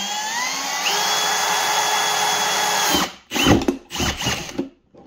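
A power drill with a 1/4 inch bit bores a hole, its motor whining steadily and loud up close for a few seconds, then stopping and restarting in short, choppy bursts before falling quiet.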